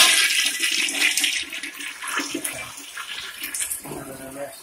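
A toilet flushes loudly up close on a plumbing construction job, a rushing swirl of water that tapers into refilling and trickling.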